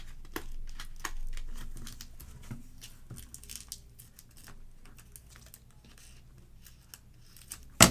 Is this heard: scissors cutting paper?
yes